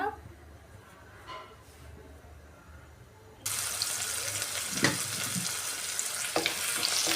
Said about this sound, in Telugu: ఎర్రగడ్డలు వేసుకున్నాము మీడియం సైజు ఒకటి చిన్నది ఎర్రగడ్డలు వేసుకున్నాను ఇది ఒక రెండు నిమిషాలు పచ్చివాసన పోయే వరకు బాగా వేయించాలి